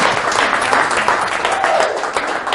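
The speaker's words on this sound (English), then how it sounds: "So a round of applause here for Ken Condon." An audience claps and applauds for a motorcycle cornering instructor, a short continuous burst of hand clapping from a small crowd, fairly close and steady throughout.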